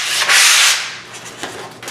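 Light hand sanding knocks burrs off a laser-cut wing spar: one loud, close rasping stroke followed by fainter, shorter rubs.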